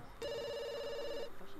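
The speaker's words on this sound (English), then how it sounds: "Shut up, phone!" A telephone in The Sims 2 rings once with a steady electronic trill lasting about a second, fairly loud and close, with faint game ambience around it.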